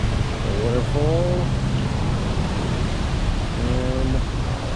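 A steady broadband roar of a waterfall at the Hilton Hawaiian Village in Hawaii fills the scene, constant and close, with a couple of brief voices murmuring underneath.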